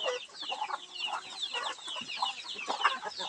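Palawan native chickens on a farm cluck steadily in a busy overlapping chorus, several birds close by calling in quick repeated bursts with no talk over them.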